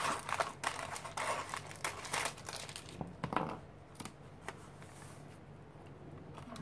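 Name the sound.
trimming paper for an art journal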